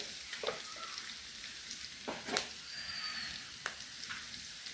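Turmeric and spices fry in a pan with a soft, continuous sizzle. A few scraping clicks from stirring can be heard, quiet and close, with no voices.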